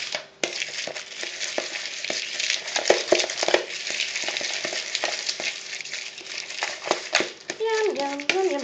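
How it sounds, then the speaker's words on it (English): A protein breakfast slice mixture of egg whites and oats is stirred in a bowl, giving continuous wet scraping and sloshing with spoon taps, and a voice breaks in near the end. "And then stir it all up."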